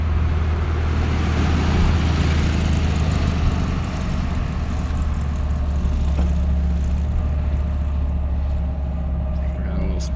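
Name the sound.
1970 Volkswagen Karmann Ghia driving in first gear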